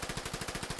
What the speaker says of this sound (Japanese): 銃声が聞こえる。